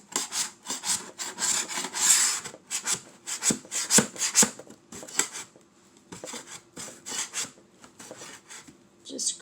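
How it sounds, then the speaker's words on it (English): A scraper rasps leftover glue off a DIY craft piece in repeated short, gritty strokes, close and moderately loud, with uneven pauses between passes. "Just scrape it off."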